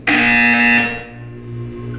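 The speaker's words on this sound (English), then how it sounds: "You will hear a buzzer." In the video game Portal 2, a loud, harsh electronic buzzer blares in one sustained tone for about a second, then cuts to a fainter lingering hum.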